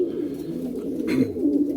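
A pigeon coos close by, a low throaty rolling call that swells and sustains, heard on its own.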